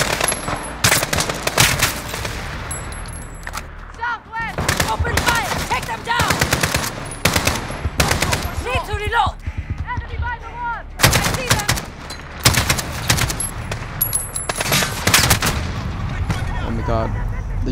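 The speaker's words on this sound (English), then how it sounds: "Open fire! Take them down!" Gunfire in the campaign of the video game Modern Warfare: loud, dense bursts of automatic and single shots crack repeatedly throughout, with shouted voices between and under the shooting.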